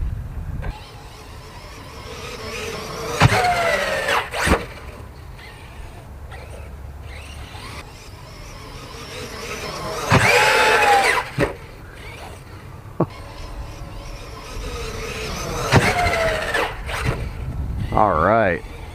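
An Arrma Sentalion 6S RC car drives and jumps outdoors, its electric motor screaming in several sharp, rising whine bursts separated by quieter rolling stretches, with a voice talking now and then.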